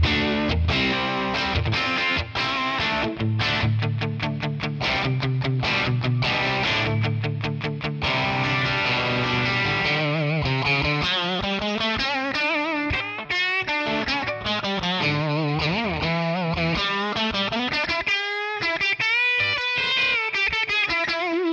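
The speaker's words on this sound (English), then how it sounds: "So we have also the Magnatone with the Strat. Let's try again the neck pickup." An electric Stratocaster on its neck pickup plays through a Magnatone amp model with reverb, strummed chords giving way to a melodic lead line with bends, warm and continuous throughout.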